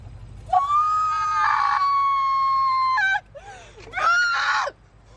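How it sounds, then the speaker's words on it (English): A woman in a public confrontation with employees lets out a long, loud, sustained shriek of about three seconds, followed after a brief gap by a shorter rising scream, both close and piercing. "I'm not dealing with the screeching, bro."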